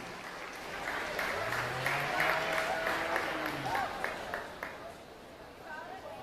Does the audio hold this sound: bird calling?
no